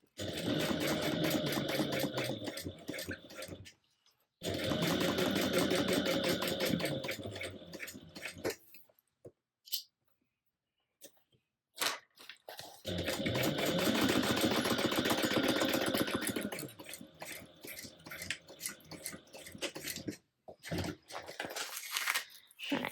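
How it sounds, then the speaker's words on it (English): A sewing machine stitches down the side of a Jazz tote bag in two long, fast, close bursts of rhythmic whirring chatter, with quiet pauses and light handling noise between them. "we're going to just carry on stitching the rest of the way down"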